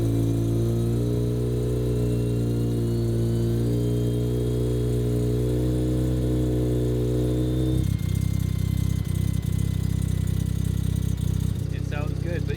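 A Mazda FC RX-7 rotary engine idles with a steady low drone, then revs up into a rougher, louder roar partway through, staying close and prominent.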